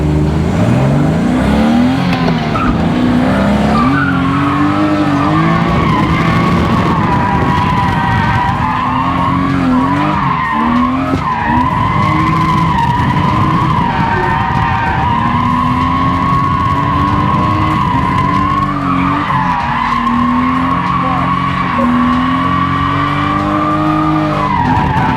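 A BMW E36 with a six-speed gearbox swap drifts with screeching, skidding tires while the engine revs hard, loud and continuous throughout, pitch rising and falling through transitions.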